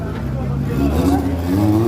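A drag racing car at a drag day event, a low engine roar rising in pitch as it accelerates, close and loud, with crowd chatter in the background.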